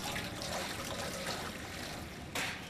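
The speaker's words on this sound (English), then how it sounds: "I like to pour water in before I get my fire started." Water is poured into the water pan of a barbecue smoker, a steady broadband splashing and trickling rush that is continuous and close, with a brief louder surge near the end.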